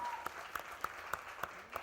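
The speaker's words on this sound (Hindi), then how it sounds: "कंगना के लिए जोरदार ताली हो जाए।" Audience applause at a television show launch event for a kids' singing competition, a short steady burst of many hands clapping, fairly faint, with sharp individual claps standing out at regular intervals.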